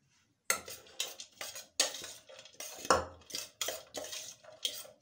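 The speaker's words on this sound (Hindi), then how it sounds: "तो इसको हम अच्छे से मिक्स कर लेंगे।" A spoon scraping and knocking against a bowl while cheese kebab mixture with salt, chilli and lemon juice is stirred, a run of brisk separate clinks and scrapes at close range.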